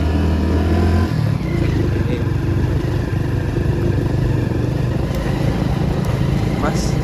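A motorcycle engine runs loud and close throughout as the rider climbs uphill and shifts from first into second gear, and the engine note drops after a brief change in pitch near the start.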